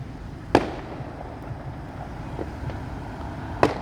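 Two distant fireworks go off outdoors a few seconds apart, each a sharp faint bang over steady low background rumble.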